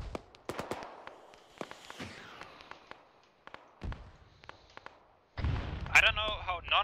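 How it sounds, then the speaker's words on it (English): Mortar shells landing in the military video game ARMA 3, a run of sharp explosive bangs at varying distances, some close and heavy, ending in a louder burst of blasts and rumble. "We'll hit it with mortars."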